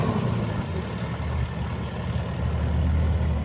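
A 2011 Kenworth T370 truck's diesel engine runs with a deep, steady low rumble that swells in the latter part, close and loud with no talking over it.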